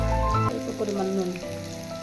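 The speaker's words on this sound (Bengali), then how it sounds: "কিছুক্ষণের জন্য ভেজে নেব।" Potatoes frying in a pan with a little turmeric and salt, a steady close sizzle and crackle running throughout, with a brief thud of stirring near the start.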